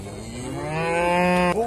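A cow at a crowded livestock market in Jalal-Abad gives one long, rising moo that swells and holds loud and close before cutting off abruptly, with faint background noise beneath.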